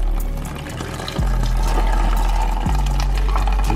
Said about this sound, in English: while it's draining out the water that's in it